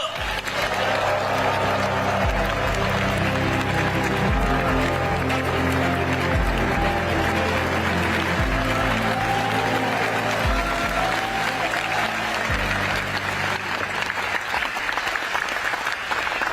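Dense, sustained applause from a large crowd welcoming the prime minister at a public event in Jeollanam-do, loud and steady throughout with a low hum beneath.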